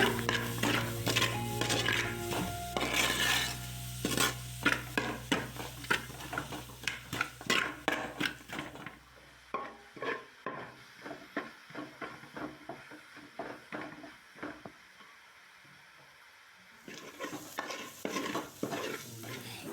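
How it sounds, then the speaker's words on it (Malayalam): Onions frying with a teaspoon of salt in a pan for a Kerala-style chicken small-onion fry, a steady sizzle with repeated scraping and clinking of a spoon stirring against the pan, loud and close, the sizzle dropping away midway then returning. "ഇപ്പോൾ നമ്മുടെ ഉള്ളിയെല്ലാം നന്നായി മൂത്ത് വന്ന് തുടങ്ങിയിട്ടുണ്ട്"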